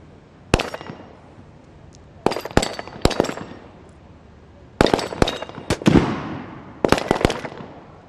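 Pistol gunfire at targets during a SWAT challenge in the UAE, a series of sharp cracks in uneven clusters, some shots following close together, heard from moderate distance with echoing tails.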